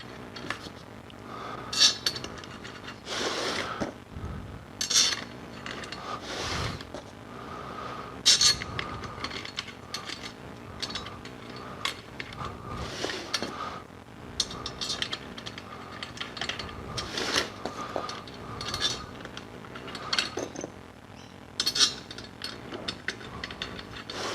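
A drum head being fitted onto a drum for a Black Widow trigger installation, heard as repeated metallic clinks, scrapes and small ratcheting handling noises spread irregularly through the clip, close and moderate in level, with no talk.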